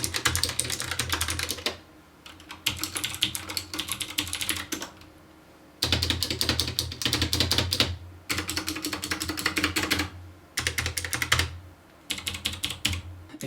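Rapid bursts of clacky typing on a mechanical keyboard with blue switches, close and crisp, broken by brief pauses between runs of keystrokes.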